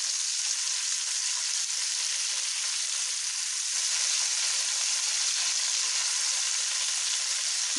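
Fish frying in a pan, sardines or anchovies, giving a steady, dense sizzle that holds evenly for the whole stretch with no talk over it.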